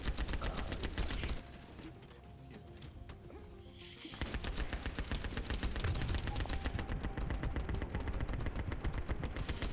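Shotgun blasts ring out in The First Descendant, with rapid repeated shots stacking into a loud barrage that briefly eases before resuming, close and with no talking.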